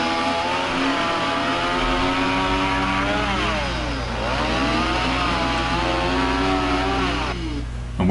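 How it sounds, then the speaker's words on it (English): A chainsaw cutting logs drones loudly and steadily, its pitch dipping and rising as it bogs down and revs while cutting. "then you can just have at it with the chainsaw."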